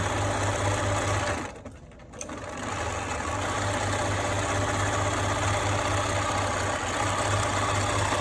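A sewing machine stitching a homemade N95-style face mask, its motor running in a steady loud hum that stops for about half a second, then resumes and runs on evenly.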